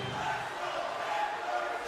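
A video-game hockey arena crowd during a tied game roars in a steady, dense wash of cheering, distant and unbroken, under a commentator's voice.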